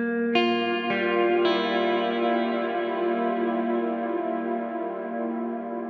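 An electric guitar played through a reverb pedal with a pre-delay effect: a few picked notes in quick succession, then a long shimmering wash that sustains smoothly, synth-like, with no voices.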